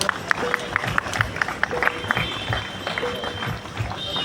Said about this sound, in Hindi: जोरदार तालियां रुकनी नहीं चाहिए आप सभी की।